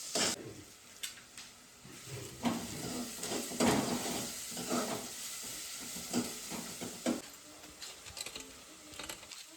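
Mushrooms being mixed with garlic in foil paper: crinkling foil rustles and scattered soft taps come in uneven bursts, close and fairly quiet.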